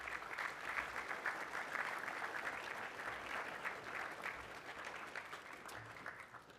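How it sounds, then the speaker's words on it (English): School assembly crowd giving a brief round of applause, dense steady clapping from a large group in a hall, moderately distant and tapering off toward the end. "with a brief round of applause, acknowledge all of those staff who gave up time during the recent break"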